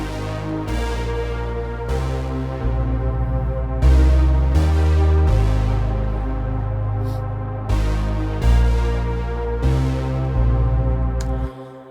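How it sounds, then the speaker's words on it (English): The intro of an electronic song made in Ableton Live sets a deep synth bass under a soft sustained synth pad. The notes change in steady blocks every second or so and play loud and continuous. "And with the pad it sounds like this."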